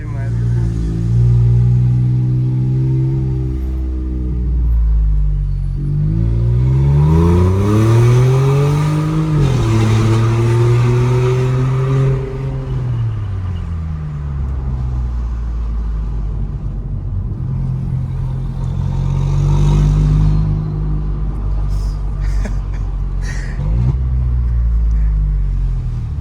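VW Polo 1.0 TSI fitted with a DPW full 304 stainless-steel exhaust diffuser, revving hard with sweeping rises and falls in pitch and popping on gear changes, loud and close under steady talking.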